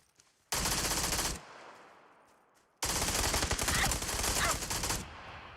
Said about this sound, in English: he shoots the dead body like he did something impressive